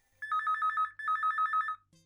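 A telephone rings while a TV is on, two loud trilling electronic ring bursts in quick succession, clear and close with a short pause between them, followed by a brief low thump.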